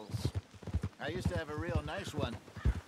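Hooves of a black horse clip-clop in the game Red Dead Redemption 2, a steady trotting rhythm running under continuous speech.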